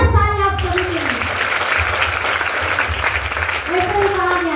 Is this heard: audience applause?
yes